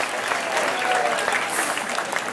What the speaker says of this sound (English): Another round of applause for the class